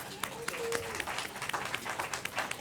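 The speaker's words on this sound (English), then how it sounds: "can we please give them a round of applause?" An audience applauds at a gathering, with a steady patter of clapping from a modest crowd that holds fairly even for a couple of seconds, with a voice faintly over it.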